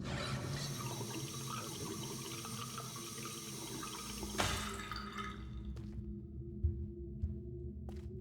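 In the puzzle game Riven, water runs and trickles steadily, then thins out, leaving a few isolated drips with quiet pauses between them, with no voices.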